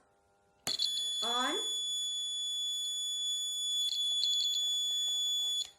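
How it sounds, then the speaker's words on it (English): A shrill, steady electronic buzzer from a homemade fire alarm switches on abruptly and keeps sounding at a constant pitch, with a brief voice heard near the start. "the fire alarm is successfully completed"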